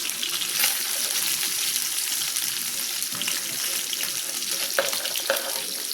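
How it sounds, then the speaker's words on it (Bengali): Eggs frying in a pan in a home kitchen, a steady, close, crackling sizzle with soft scraping bursts near the end and no voices. "ডিমও ভালো করে ভেজে নিচ্ছি"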